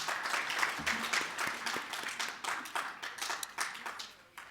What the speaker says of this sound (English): Could you please give her another round of applause?